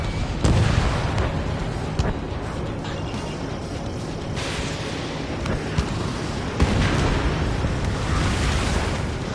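A missile launching from a jet fighter in Ace Combat 7, a loud sustained roar and whoosh over constant engine noise, with a few sharp bursts mixed into the thick wash of sound.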